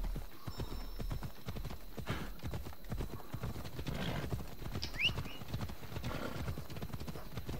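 Horse hooves galloping in the Assassin's Creed Odyssey video game, a steady rapid clip-clop rhythm throughout with a brief whinny, moderately loud, with light background game sound.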